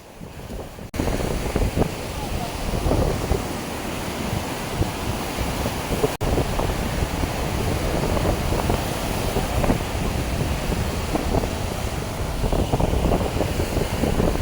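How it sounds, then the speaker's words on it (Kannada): Water sloshes and slaps against shoreline rocks in a steady, close surf-like wash, heavily buffeted by wind noise on the microphone, continuous for the whole stretch with no speech. "ಕಲ್ಲಿಗೆ ಬಡಿತಾ ಇರ್ತದೆ ನೋಡಿ ನೀರು"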